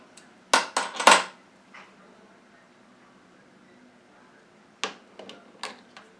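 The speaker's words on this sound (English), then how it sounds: "My handy little nutcrackers to open up this lid." Small handheld nutcrackers working at a paint can lid give a quick burst of sharp metallic clicks and scrapes, then a long quiet stretch, then a few more separate clinks near the end.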